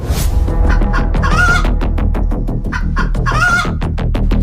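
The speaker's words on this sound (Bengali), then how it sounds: "নদীর ওই পারে একটা মুরগিকে একটা শিয়াল ধাওয়া করছে" A cartoon chicken being chased by a fox across a river clucks loudly and steadily, a quick run of agitated squawks and clucks filling the whole stretch alone.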